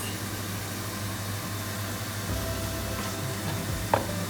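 Fried potatoes seasoned with chili powder and salt being stirred in a pan, a steady sizzling hiss with a faint scrape or two toward the end, close and fairly even throughout.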